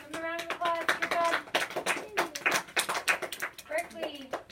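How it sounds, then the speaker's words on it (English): A class claps for a classmate in a lesson, giving a short burst of loose, uneven hand claps between stretches of a voice talking. "Give him a round of applause."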